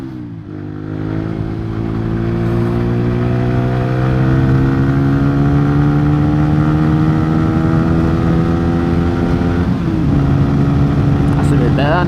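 A Honda motorcycle rides in winter, its engine a loud, steady harmonic drone that climbs in pitch over the first seconds, then holds, with a brief dip and shift near the end.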